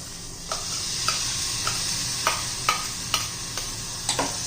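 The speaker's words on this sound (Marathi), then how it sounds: "आता ही वरही घालायची आहे आपल्याला" Barnyard millet is stirred in a pan for a fasting rice dish, a steady sizzle underneath and a regular scrape of the spoon roughly every half second, close and clear, with no talking.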